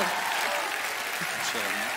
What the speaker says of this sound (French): merci d'applaudir nos choristes